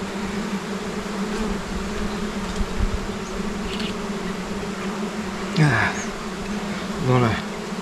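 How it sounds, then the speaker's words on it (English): Honey bees buzz around an open hive box during an inspection, a dense steady hum with individual insects droning close past the microphone now and then. "I'm gonna leave this box off for all the bees. They're all down there."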